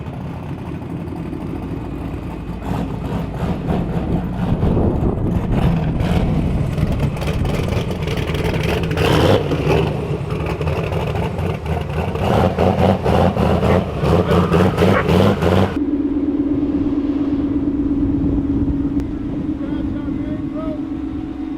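Ford Mustang S550 running on a dyno in a shop, loud continuous engine roar with rising and falling revs for about fifteen seconds, then dropping abruptly to a steady idle hum, with voices faintly underneath.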